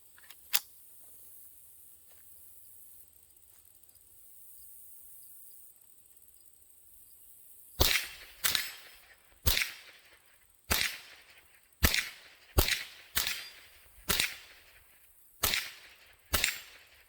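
A Marlin 795 .22 rifle firing Federal AutoMatch rounds from a 16-inch barrel at an AR500 steel target: after a quiet stretch, about ten sharp, cracking shots ring out at a brisk, uneven pace, close and loud.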